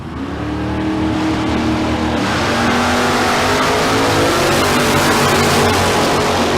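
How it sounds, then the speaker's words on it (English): A Big Block Chevelle and a Camaro launch down the strip at Famoso Dragstrip, their engines swelling into a loud, continuous roar of hard acceleration that fills the whole stretch without letup. "Big Block Chevelle coming after the Camaro"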